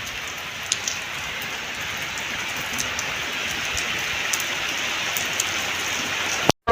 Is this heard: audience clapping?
no